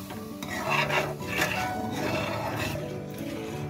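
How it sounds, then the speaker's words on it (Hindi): A spoon stirs atta halwa in a pan, steady scraping and rubbing against the metal with a soft sizzle beneath, close and continuous with no speech. "अच्छी तरह घुमाते रहेंगे चारों तरफ से हिलाते हुए।"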